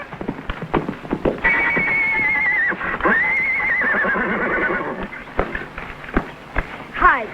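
A horse neighing in long, loud whinnies, with galloping hooves thudding in an uneven rhythm before and after, in a 1950s television western; the sound is close and prominent.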